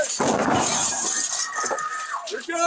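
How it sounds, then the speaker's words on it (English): A police flashbang explosion and a burst of breaking glass from two windows shatter loudly near the start, followed by tinkling debris and raised, overlapping voices shouting. "You also heard some glass shattering because the cops broke 2 windows."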